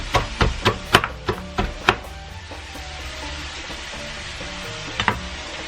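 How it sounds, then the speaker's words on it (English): A knife chops jalapeno pepper on a cutting board for a shakshuka, about eight sharp, close knocks in an uneven rhythm over the first two seconds, then a lull with a low background hiss and a final pair of chops. "let's just cut up some of the jalapeno"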